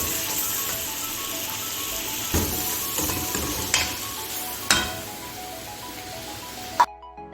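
Tomatoes go into hot sizzling masala for beef karahi kabab, giving a steady frying sizzle with stirring scrapes and a few sharp clinks of a utensil against the pan, close and continuous without talk.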